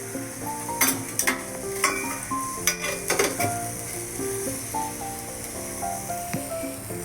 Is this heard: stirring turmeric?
yes